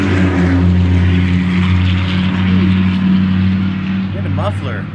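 A loud car engine with no muffler roars nearby at night beside a graveyard, a steady low rumbling drone that fills the whole stretch and fades slightly at the end, with a voice speaking over it.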